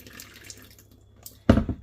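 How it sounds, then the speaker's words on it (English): Beef gets washed under running water in a kitchen sink, with faint trickling at first and then a sudden close splash of water hitting the meat. "Always wash your meat nicely."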